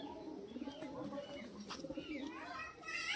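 Madrasi high-flying pigeons coo softly in a loft, low rolling calls repeating close by through a steady background murmur, with a few brighter chirps near the end.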